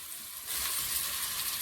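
Curry leaves frying in hot oil in a pan for a salted fish curry; a brief quiet moment gives way to a steady, close sizzling hiss.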